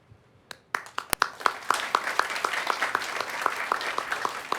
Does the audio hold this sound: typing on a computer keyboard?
no